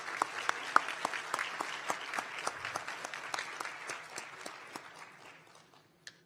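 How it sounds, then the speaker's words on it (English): A round of applause at a university student leadership awards ceremony, many hands clapping in a steady patter that gradually thins and fades toward the end, heard from a moderate distance. "Let's give them all a round of applause."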